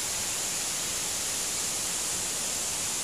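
Šum waterfall on a Slovenian river, rushing as a steady, dense roar of water that stays loud and unchanging throughout, with no voices.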